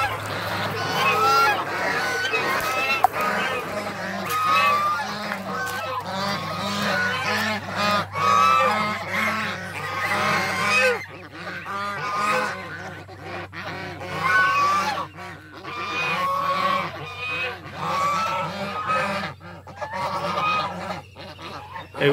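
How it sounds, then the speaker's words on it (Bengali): A flock of domestic geese honks repeatedly, loud and close, in overlapping bursts that continue throughout with a steady low hum underneath. "এগুলো আমাদেরই রাজহাঁস"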